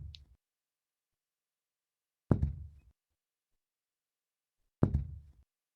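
Footsteps in a horror ASMR track, two heavy low thuds spaced a couple of seconds apart after a faint initial knock, each resonant and booming against near silence, like slow steps drawing closer.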